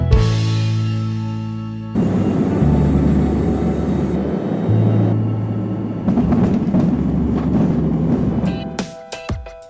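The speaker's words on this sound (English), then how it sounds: "today I'm flying on the Dornier 328 jet." A Taos Air Dornier 328 jet gives a steady, loud engine roar with a deep rumble underneath. The sound shifts abruptly in level a few times and ends with a brief rattle.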